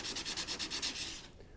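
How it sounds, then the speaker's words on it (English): Rhythmic rasping strokes of sanding a 1950s Craftsman metal tool box, about a dozen quick passes back and forth, close and steady, then stopping abruptly. "I got a lot of sanding to do."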